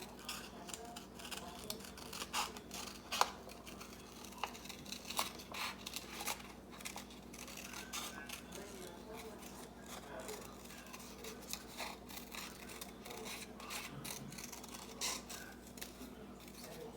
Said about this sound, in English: So I'm cutting it off the bottom.